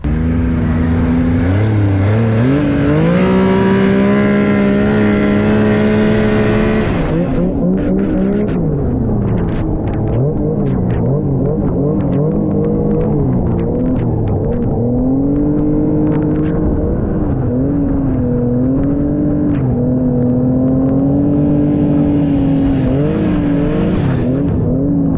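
A snowmobile engine revs on the trail for the first ride of the season, close and loud, rising and falling in pitch through repeated throttle bursts with a continuous rumbling drone and no talk.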